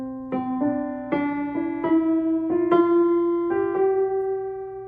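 A series of out-of-tune, slightly flat piano notes struck one after another, rising gradually in pitch, with some quick repeated strikes and overlapping ringing tones that sound slightly off.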